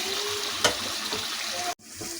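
Boiled mutton goes into a pan of frying masala with a loud, steady sizzle and hiss, a brief clatter as the meat drops in, then the sizzling resumes after a short break.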